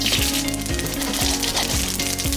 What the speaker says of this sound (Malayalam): വെളിച്ചെണ്ണ ചൂടായി കഴിയുമ്പോൾ അതിലേക്കായി കടുകും പെരുംജീരകവും ചേർക്കുക.